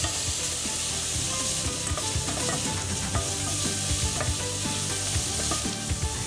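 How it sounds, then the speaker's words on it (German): Ground spices sizzle and fry in hot oil in a pan while preparing Indian paneer butter masala, a steady close crackling hiss with small stirring scrapes throughout, no voices. "Jetzt geben wir die Pulvergewürze hinzu und lassen sie ein paar Sekunden anbraten."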